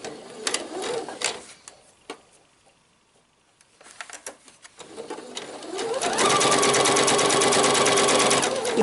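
A sewing machine running a long stitch around the edge of fabric for a shirred summer dress, a few short clattering bursts and pauses before it settles into a steady rapid whirring rhythm.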